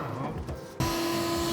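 A drill running with a poor, blunt bit starts abruptly partway through as a loud steady whine that holds to the end, after a stretch of quieter background noise.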